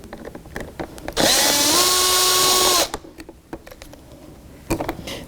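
A powered screwdriver whirs steadily for about a second and a half as it backs a screw out of a Jeep Cherokee door panel, set between scattered clicks and handling noises.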